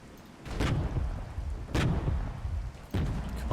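Three heavy gun bursts, evenly spaced about a second and a half apart, boom loudly over a low rumble as BTR-70 armoured vehicles are fired on at a runway map in the strategy game Regiments.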